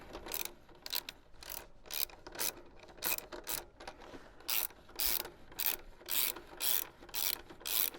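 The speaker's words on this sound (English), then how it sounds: "Once that's in there and your wheel's forward, you can tighten up your axle." Ratcheting axle tightening on a Surron Ultra Bee electric dirt bike wheel, with a 24 mm fitting: a steady run of about a dozen close, crisp ratchet clicks in quick even bursts, alone with no talking.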